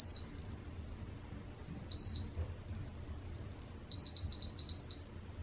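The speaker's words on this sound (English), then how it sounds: "So now you just wait until the beeping ends." High electronic beeps from a nearby automatic steam hair curler: a single tone, a longer beep, then a quick run of several short beeps over low background hum.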